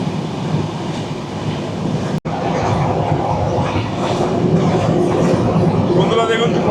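Sundarban Express train running at high speed, a loud steady rumble and rattle of wheels and carriages with faint clickety-clack, briefly cut by a momentary dropout near the start, with voices faintly mixed into the noise.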